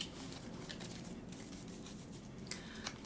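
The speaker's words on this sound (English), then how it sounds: "Let's shuffle this deck." Pokémon tarot cards being shuffled by hand, a soft, continuous papery patter with a couple of sharper snaps near the end, quiet and close.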